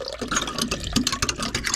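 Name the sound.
water flowing out of the boat's intake line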